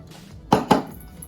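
A spoon clanks twice against a bowl while Snickers apple salad is mixed, two sharp close knocks a fraction of a second apart over a quiet background, with no talking.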